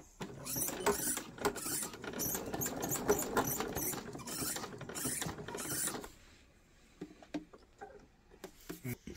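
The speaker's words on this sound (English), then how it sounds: "I'm going to backstitch at the corner." A sewing machine stitches in a rapid whirring patter for about six seconds, backstitching at a corner of 18th-century fall-front trousers, then stops, leaving faint clicks and handling sounds.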